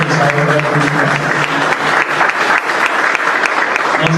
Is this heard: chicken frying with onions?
no